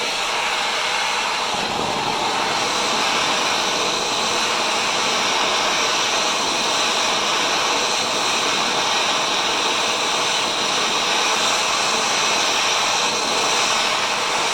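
Heat gun blowing on a dented expansion chamber from a Ski-Doo MXZ 600 snowmobile, a steady, close, hissing rush of air that holds unbroken for the whole stretch with no talking.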